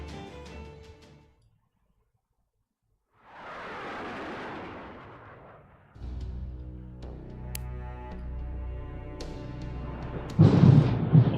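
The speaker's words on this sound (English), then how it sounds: "Oh shit, it's the thunder." Thunder in the game Fate/Grand Order: a soft rolling rumble swells and fades, then a louder crackling boom erupts over game music, ending in a sharp close crash.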